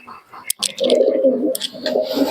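Low, throaty cooing from a Pakistani Salar Teddy pigeon runs steadily through most of the stretch, close by, after a few brief clicks and rustles at the start.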